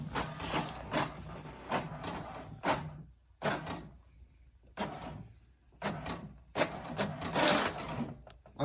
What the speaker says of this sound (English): Press it once and the printer would automatically print a page with the information.